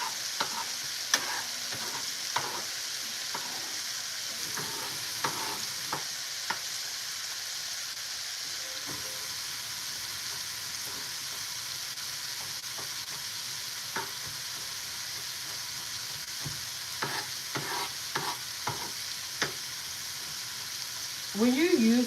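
Greens and fresh garlic sauteing in a frying pan give a steady, close sizzle for about twenty seconds, broken by repeated scrapes and clinks of stirring.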